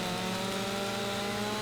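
A chainsaw cutting a tree in Farming Simulator 25, a steady high buzzing engine drone held at constant pitch, loud and close, with no speech.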